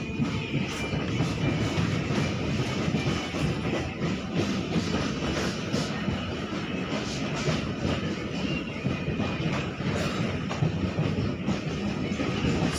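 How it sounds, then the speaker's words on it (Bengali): A local suburban train leaving Sealdah, running in parallel with another local, gives a steady, loud rumble with rolling wheel clatter and rail noise throughout, with no talking. "7:46 শিয়ালদা থেকে ছেড়েছিল ব্যারাকপুর লোকাল, যার সাথে আমাদের ট্রেনের প্যারালাল রান হয়েছিল"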